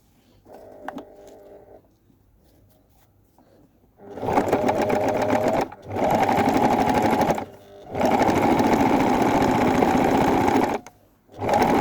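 A sewing machine runs topstitching on a handbag lining, starting after a quiet few seconds and then whirring loudly in three long steady bursts separated by short pauses.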